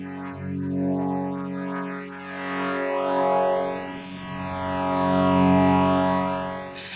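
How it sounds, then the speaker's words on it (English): An Ashun Hydrasynth synthesizer holds a sustained tone through a rotary speaker effect, its swirling, sweeping comb-like modulation rising and falling in slow waves over seven seconds, loud and alone. "Rotary."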